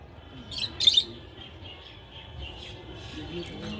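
Small pigeons in a loft give a few faint chirps and coos, a brief cluster of brighter calls near the start, over low background noise.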